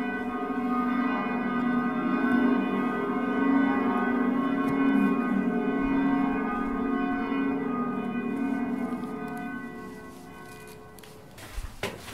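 Bells of the Bruges belfry ring steadily, a dense sustained tolling with layered resonant tones that carries on without a break before fading toward the end, with a few sharp knocks at the close.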